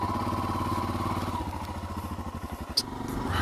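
Royal Enfield Himalayan motorcycle being ridden through the Peak District, a steady mid-pitched engine chug throbbing along with wind and road noise, fairly close and without speech.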